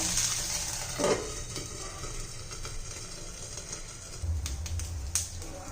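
Small barnyard millet (bhagar) dosas frying in ghee on a pan, a steady soft sizzle with faint crackles and a few light scraping clicks, close and moderately quiet, no talk.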